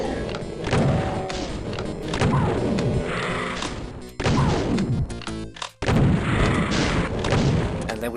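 Gunfire and heavy impacts in Doom 2 on MAP23: Ground Zero, loud, repeated blasts and crashing thuds stacked closely, with a couple of brief gaps between bursts and no voice over them.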